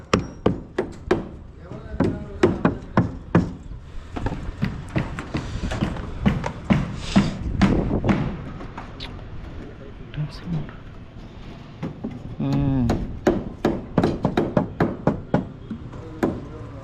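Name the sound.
hammering nails into wooden centring at construction site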